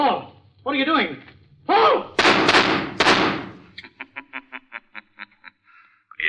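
Gunshots from a recording played over a hidden loudspeaker in an old radio drama: after raised voices, two loud sharp bangs ring out, then a string of short rhythmic sharp cracks, with talk before and between.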